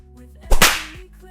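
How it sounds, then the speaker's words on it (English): A single sharp slap sound effect cracks out once, loud and close, with a quick decay and no talking. "So go to sound effects, you can add slap effect."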